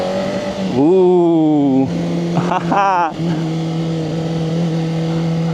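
A VOGE RR500S inline-four motorcycle engine steadily drones, then rises sharply in pitch through a loud acceleration, drops, and revs up again in a quick burst before settling back; a brief voice exclamation sounds over it.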